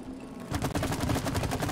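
Rapid automatic gunshots fired at shooting targets in a video game, a loud, fast, evenly spaced burst that starts abruptly after a short quiet moment and continues to the end.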